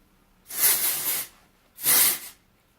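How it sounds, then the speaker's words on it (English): Bumble and Bumble Thickening Dry Spun Finish hairspray is sprayed onto hair in two hissing bursts, each under a second long, close and clear with a short pause between and no talk. "I just like to spray it in my hair."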